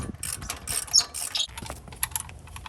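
A small low-torque electric ratchet whirs and clatters, spinning front hub bolts out on a third-generation Ram 2500 4x4, loud and close in a continuous busy burst with no voices.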